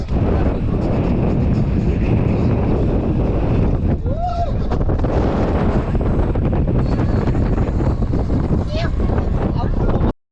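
Strong, gusting wind roars across the microphone on the Mullayanagiri peak in Karnataka, a loud and constant broadband rush for the whole span, with brief voice-like tones buried in the buffeting.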